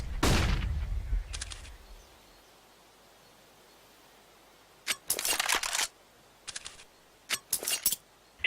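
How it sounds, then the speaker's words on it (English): A flashbang grenade in the CS:GO video game at a PGL Major Krakow 2017 match, with a loud bang and a hiss that fades over two seconds, followed by scattered sharp clicks and bursts of gunfire. "I am throwing a flashbang."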